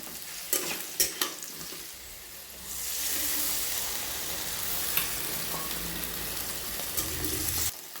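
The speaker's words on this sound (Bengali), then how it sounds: "এবার যে আদা জিরে শুকনো লঙ্কা মশলাটা বাটা ছিল, সেই মশলাটা বাটা মশলাটা দিয়ে এবার কষাবো" Ground ginger, cumin and dried red chilli paste is sautéed in hot oil for a katla fish curry, a few utensil clinks giving way to a steady, moderately loud sizzle with faint stirring scrapes.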